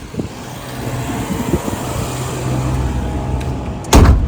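Car being loaded up on an overcast day at Bronte Beach, Sydney, with low traffic rumble and shuffling throughout, then a solid door slam near the end.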